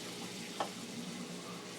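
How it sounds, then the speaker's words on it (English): Butter sizzling in a hot greased pan, a faint, steady crackling hiss with one small pop partway through. "It's a hot greased pan with some butter"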